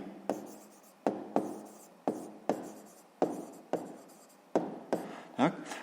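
A math answer is written by hand, a run of short, close scratchy pen strokes tapping against paper at a fairly even pace, with a person speaking faintly now and then.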